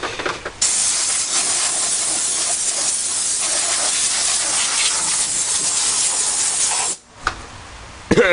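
Air compressor releasing compressed air during work on an AWA TV, producing a loud, steady hiss that runs for several seconds and then cuts off, followed by a brief final spurt.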